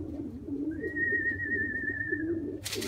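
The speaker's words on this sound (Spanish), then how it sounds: "Hay una más arriba del techo, no sé qué paloma será." Homing racing pigeons coo softly near a rooftop, a low steady murmur with a thin whistling tone running over it, before a short noisy burst at the end.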